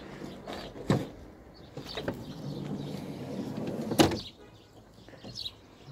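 Car power window in a hybrid or electric car at an Armenian car market, a faint motor whir with thumps and clicks at about one and four seconds, heard alone against background noise.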